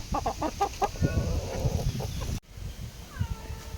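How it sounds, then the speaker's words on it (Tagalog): Chickens on a resort farm in Zambales cluck in a rapid run of calls close by, followed after a brief cut by softer clucks and a thin higher call. "Tapos ayun yung mga manok natin no."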